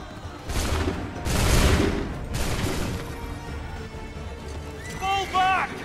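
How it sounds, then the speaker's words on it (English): Musket volleys in Assassin's Creed III, with two or three loud ragged bursts of massed gunfire, then a quieter tail and a short shouted voice near the end. "Make ready! Go! Hold fire!"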